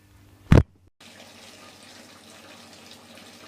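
Tap water running steadily into a container for a water change, a continuous even splash starting after a brief sharp bump, fairly close and alone.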